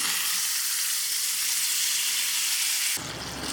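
Boiled mutton sautéing with onion and tomato in a pan for mutton masala, a loud, dense, continuous sizzle close up that cuts out sharply near the end, with no talking.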